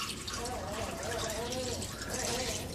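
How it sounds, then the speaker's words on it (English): Water pours into a crockpot over chicken, onions, carrots and celery, a continuous close splashing and trickling that fills the short stretch while speech overlaps. "pour water over it."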